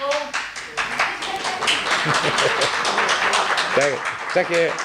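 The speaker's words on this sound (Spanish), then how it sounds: "Un aplauso." A church congregation claps during a service, brisk applause from many hands close by, mixed with voices and some speaking over it.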